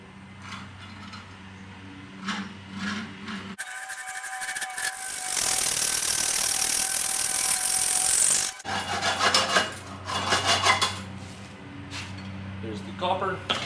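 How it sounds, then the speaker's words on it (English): A hacksaw cuts a piece from a copper coil, a harsh, loud rasping run of strokes in the middle, with speech before and after it. "I'm going to take this hacksaw and cut off a nice bit of excess from this copper coil"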